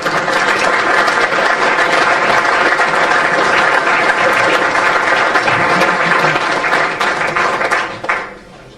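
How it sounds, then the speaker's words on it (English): A loud, dense burst of audience applause for an award presenter at an end-of-season awards event holds steady for several seconds, then quickly fades out. "Big round of applause for Derek, everyone."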